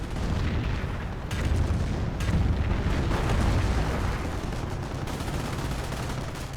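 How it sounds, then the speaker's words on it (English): Battle gunfire and heavy booms from the World War II strategy game Company of Heroes rumble continuously, dense and loud, with overlapping shots and explosions and no clear voices. "They're shooting at us."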